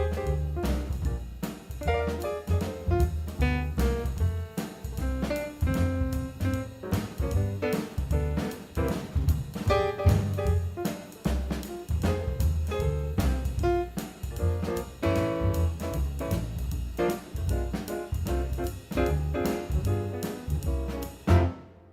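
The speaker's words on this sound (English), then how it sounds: "Let's hear the rhythm section play the same music, but with no theme." A jazz rhythm section plays the backing music without its melody: busy drums, walking bass and chordal accompaniment keep a steady swinging groove throughout, full and continuous with no talking.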